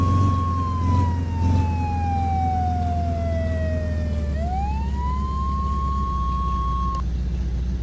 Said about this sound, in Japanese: 消防車が到着してる。